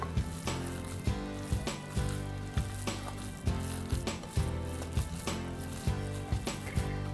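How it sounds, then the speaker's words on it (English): Meatball mixture spiced with cumin and coriander being mixed by hand, with soft squelching and regular rhythmic thuds against a bowl, moderately close and steady over a low background hum. "Cumin and coriander going in. Spicing up those meatballs. Let's give that a mix."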